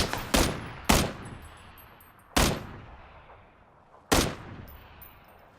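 Four sharp, loud unsuppressed gunshots in a video game, spaced irregularly over several seconds, each followed by a short echoing decay, with no talk.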